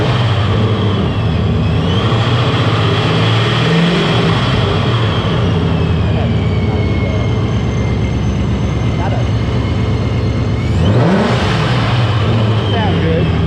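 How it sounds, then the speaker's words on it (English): A Vortech-supercharged car engine idles loudly close by, with revs swelling and falling twice and supercharger whine over the rumble, and faint voices in the background. "Chris, give it a little rev."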